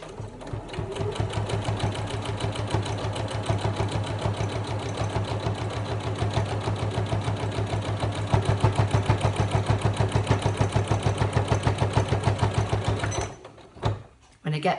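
A sewing machine runs steadily while stitching a fabric notebook cover, its needle hammering in a rapid, even pulse close up for most of the stretch before stopping near the end.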